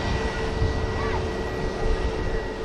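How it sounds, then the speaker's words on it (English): An Air France airliner takes off at an airport with a loud, steady broadband engine roar that holds without a break, heard close and continuous. "the Air France rotates as the BA enters the active runway now"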